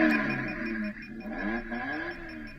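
The small electric motor of a Ricco S2188 kids' ride-on car whines and drones steadily up close, its buzzing pitch wavering up and down.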